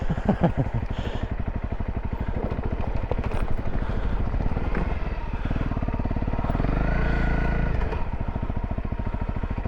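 A Honda CRF250L engine revs and idles close up during trail riding, a loud, continuous low thrum with rhythmic pulses that rise and fall as the throttle changes.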